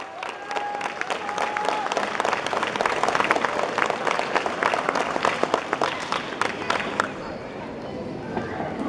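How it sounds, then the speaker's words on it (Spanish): Dense, sustained applause from a crowd at a huapangueada festival in Chicontla, with sharp individual claps close by and a murmur of voices underneath, fading slightly toward the end. "para quien pido un caluroso aplauso"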